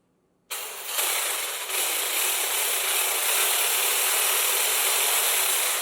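A stand mixer beats pistachio ganache with a loud, steady mechanical grinding and whirring that rattles like an old tractor. It starts abruptly and then runs continuously with no talk.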